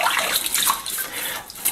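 Water runs steadily over a saltwater fly fishing rod as it is rinsed after use, a close, continuous splashing hiss with no voices.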